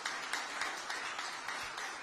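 A crowd claps steadily at a political campaign launch, a dense, even wash of applause with no voices rising above it for the whole stretch.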